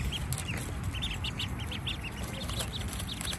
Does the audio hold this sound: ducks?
yes